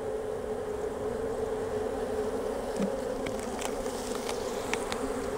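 Honey bees swarm around an opened, somewhat chaotic beehive, producing a dense, steady buzzing hum throughout, with occasional closer wingbeats and faint handling clicks.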